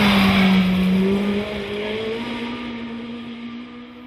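A historic rally car on a special stage roars past close in during a near miss, its engine note falling as it passes, with a short tire squeal and the sound fading into the distance.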